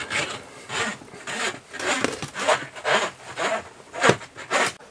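Cables dragged through a tight conduit while fitting a fridge on a sailboat give irregular rasping, rubbing pulls in bursts of about one per second, close and fairly loud, with no talking.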